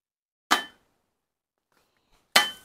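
Two sharp, hard cracks about two seconds apart as a coconut is struck to split it open, each a loud close impact that decays quickly into near silence.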